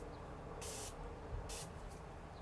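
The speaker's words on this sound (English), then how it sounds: "Now I am going to spray my brush with my Morphe setting spray." Two short bursts of Morphe setting spray misted onto a makeup brush, each a soft airy hiss lasting a fraction of a second, close and quiet against a faint room background.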